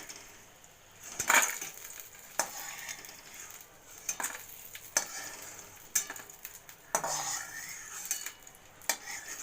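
Cooked flat beans and split peas are mashed together on a plate in short, wet squishing and scraping bursts, with occasional light clinks, repeating irregularly every second or so at close range.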